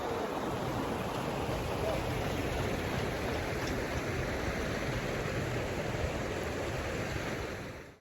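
Water rushes continuously at Kala Pani in Kumrat Valley, Swat, a broad steady hiss of flowing stream close by that holds at an even level for the whole stretch before cutting off.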